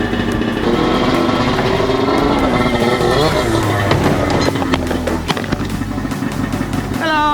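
Snowmobile started up and driven onto a heavy metal trailer, a loud close engine with rough revving and rattling metallic knocks, speech heard over it.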